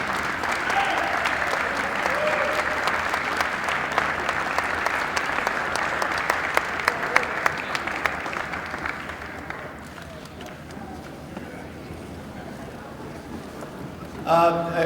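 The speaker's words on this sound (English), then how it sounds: "let's give a round of applause to your parents" Audience applause fills a college athletic banquet and hall of fame ceremony as athletes stand to honor their parents, a steady, loud clapping that continues for about ten seconds before fading into quieter room noise.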